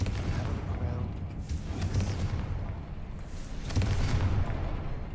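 Spell explosions from Bombarda and Confringo in the Hogwarts Legacy video game land as a few heavy booming bursts over a dense, rumbling game soundscape, with loud blasts near the start, middle and end.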